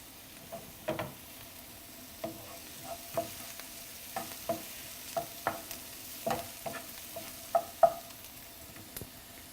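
Onions fry gently in a pan, a low continuous sizzle broken by sharp scattered clicks and pops of spatula taps every second or so, with no voice.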